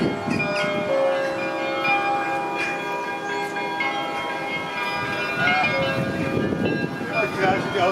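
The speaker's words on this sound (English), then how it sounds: "The only thing I filmed was this little clip of church bells ringing." Church bells ringing in Amsterdam, a steady layered peal that rings on throughout, with faint street background beneath.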